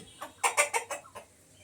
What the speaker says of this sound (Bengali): এদের ভেতরে মুরগি আছে